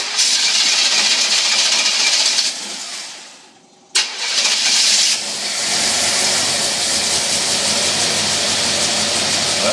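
An engine fed by a Holley two-barrel Motorcraft carburetor, with a faulty electric choke and a likely blown power valve, runs with a loud, steady roar. It sags and briefly cuts out, then catches again and keeps running evenly.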